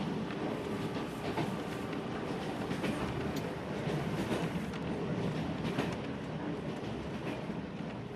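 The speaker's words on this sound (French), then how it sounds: "Le train traverse de nombreuses villes perdues" Passenger train running through China, heard from inside as a steady, loud rumble with clickety-clack of wheels on rails throughout, no voices.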